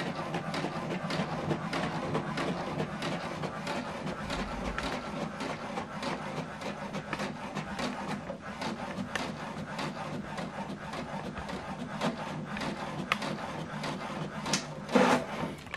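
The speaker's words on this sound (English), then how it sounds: "So the second one is printing." HP Deskjet 2820e all-in-one inkjet printer printing a page, a steady close mechanical whir and rubbing with rapid clicks running throughout, a brief louder shuffle near the end.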